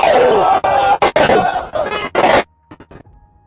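A crowd at a footrace between Speed and UFC fighter Randy roars and shouts in loud, choppy bursts, then cuts to near silence with a few faint sounds.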